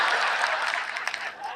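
An audience at a comedy poetry show gives a short burst of steady applause, a dense wash of clapping that fades slightly toward the end.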